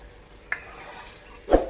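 Beef kebabs flipped while frying in a karahi: a soft sizzle of oil throughout, a sharp metallic tap around halfway, then a louder stir-and-scrape of the kebabs being turned at the end.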